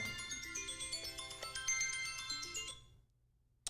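A melodic phone ringtone plays for an incoming call, a clear repeating tone pattern that rings for nearly three seconds and then stops, followed by a brief click.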